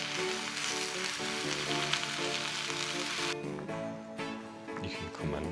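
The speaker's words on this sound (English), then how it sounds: "this pan looks completely crowded at the moment, but give it a few moments and that spinach will have wilted down to absolutely nothing almost" Spinach wilts in a crowded frying pan with a steady, dense sizzle, moderately close, and a light shuffle partway through as it settles.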